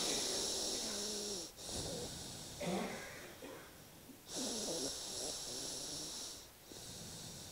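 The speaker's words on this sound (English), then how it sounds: "breathe two times in and out of the nose" Slow breaths drawn in and out through one nostril while the other is held closed, a soft, hissing airflow in long cycles close to the microphone.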